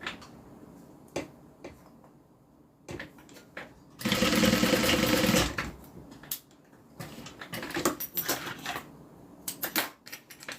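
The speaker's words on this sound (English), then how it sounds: "so that is just stitched down on each side" A sewing machine stitching a leather zip-around wallet runs in one loud, close burst of rapid stitching lasting about a second and a half, surrounded by quieter handling clicks and taps.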